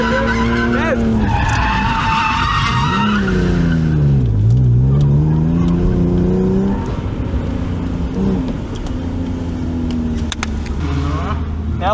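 A car skids sideways through a drift during driving training at Madžiūnai. Long, loud tyre squeals rise and fall over a steady roaring engine for the whole stretch.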